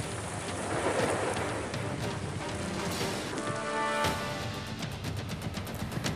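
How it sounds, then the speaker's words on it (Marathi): Heavy rain pours steadily in Washim district, Maharashtra, a dense continuous hiss with faint rumbles beneath, with no voices. "वाशिम जिल्ह्यात वाशिमसह मालेगाव आणि रिसोड तालुक्यात अनेक ठिकाणी जोरदार पाऊस झाला आहे."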